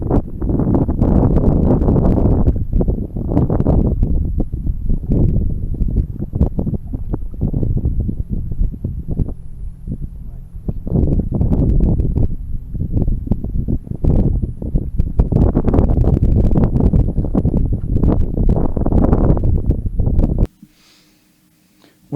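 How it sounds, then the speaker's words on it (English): Strong summer wind gusts over a local lake while fishing, producing loud, rumbling buffeting against the microphone in repeated surges. The wind drops off abruptly near the end. "The wind blew down that canyon and made it really tough to hold."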